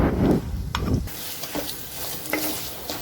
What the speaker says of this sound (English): you have to constantly stir it till it becomes completely dry